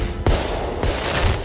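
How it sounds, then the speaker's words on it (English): New Year's fireworks go off at midnight as two sharp, loud explosive bangs, followed by crackling bursts and a sustained rumble. "Fireworks."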